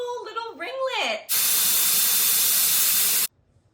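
A Dyson Airwrap blows a loud steady rush of air for about two seconds while curling hair, right after someone speaks, then cuts off abruptly.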